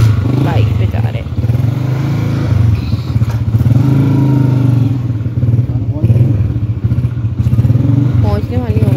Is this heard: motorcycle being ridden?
yes